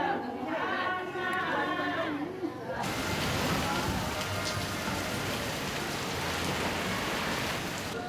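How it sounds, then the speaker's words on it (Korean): Heavy rain from a tropical squall comes down suddenly and roars on without a break, a dense downpour drumming on surfaces nearby. "열대 지방답게 오후 3시만 되면 소나기 스콜이 내린다"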